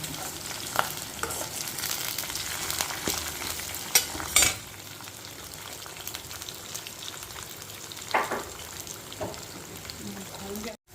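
Two tomatoes frying in generous oil with a steady sizzle, punctuated by a few louder stirring scrapes and clatters close by.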